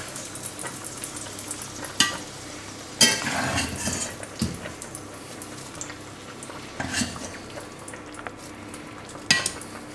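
Butter-fried potatoes tumble into a cocotte of pork rouelle, giving uneven bursts of sizzling and stirring with light clinks of a utensil against the pot.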